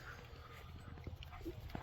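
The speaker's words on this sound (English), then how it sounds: "oh my god, the dogs. There's so many dogs." Several dogs at a four-acre rural homestead, heard as faint, scattered low whimpers and snuffling close by against steady outdoor background noise.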